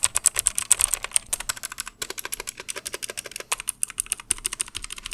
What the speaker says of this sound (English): And here are the more obnoxious blue switches.